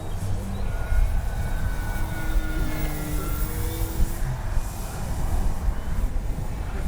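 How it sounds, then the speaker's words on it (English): A Durafly Rare Bear RC model airplane flies overhead, its electric motor a steady, moderately loud whine that holds fairly constant with slight swells, heard outdoors against background noise. "you hit the throttle, this thing just wants to climb and go, go, go"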